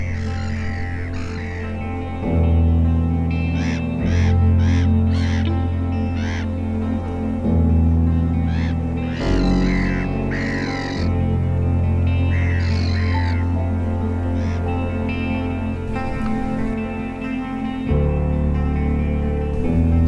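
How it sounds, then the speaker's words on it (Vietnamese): Gulls harassing a kite for its food at Lake Constance, with repeated harsh bird calls in bursts over a steady loud musical bed. "Ở đây chim mòng biển đang cố cướp lấy miếng mồi của diều hâu."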